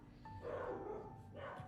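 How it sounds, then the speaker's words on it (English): Several small pet dogs bark excitedly indoors at a moderate distance, their yips rising and overlapping in a busy, steady run of barking. "my dogs are starting to bark"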